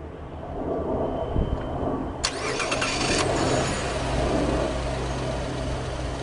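A 2012 Cadillac SRX with push-button ignition cranks and catches, then settles into a steady mid-pitched idle that runs alone and close for several seconds.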